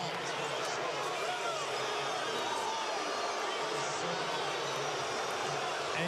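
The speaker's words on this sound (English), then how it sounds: "you can hear the crowd here at Target Center" Arena crowd at Target Center during an NBA basketball game, a steady broad roar of many voices filling the space continuously, with faint court noise mixed beneath.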